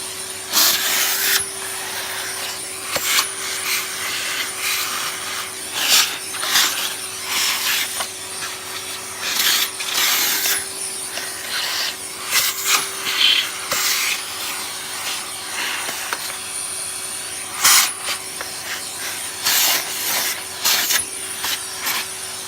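A Henry vacuum cleaner runs with a constant loud whine and hiss, broken by repeated scraping and knocking bursts as the nozzle is worked over surfaces.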